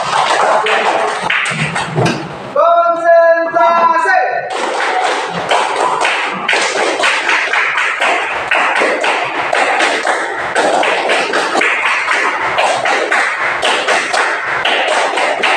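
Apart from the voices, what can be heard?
group clapping hands together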